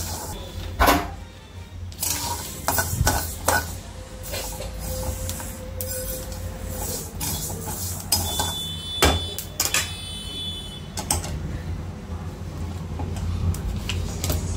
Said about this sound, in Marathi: बाजरी सुद्धा अशीच व्यवस्थित भाजून घेऊया। गॅस अजिबात मोठा करायचा नाही।